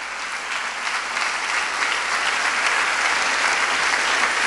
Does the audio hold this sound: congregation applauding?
yes